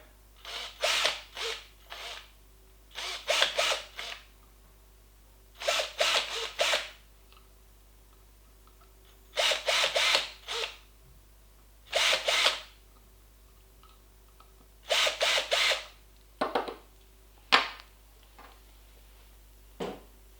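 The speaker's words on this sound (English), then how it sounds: "Drill away." A drill whirs in repeated short bursts while drilling holes in plastic, each a second or so, separated by brief pauses, loud and close with no talking.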